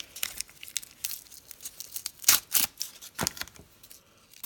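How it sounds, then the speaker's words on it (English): Masking tape is peeled off the freshly painted snorkel of a TF2 RC crawler, a close series of sharp ripping and crinkling bursts in an irregular rhythm. "so I'm just going to peel all of this off"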